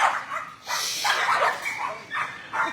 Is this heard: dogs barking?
yes